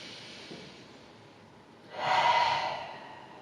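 A person breathes deeply during a yoga session, a soft airy inhale followed by a louder, fuller breath, close by and alone.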